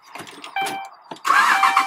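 A Dodge Ram truck is started with the key: brief clicks and chimes come first, then the engine catches with a loud, close rumble in the last moments.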